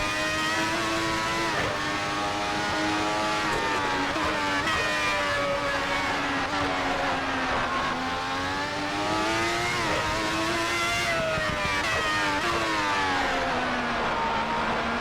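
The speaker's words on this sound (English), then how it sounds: "Staying out of the upper end of the rev range on the motor for the moment, just getting everything up to temperature." A V12 engine in a 412 T2 race car drones loudly through moderate revs while warming up on track, its pitch gently rising and falling through shifts with no talk.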